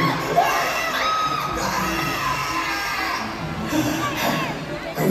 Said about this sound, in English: Are we done screaming?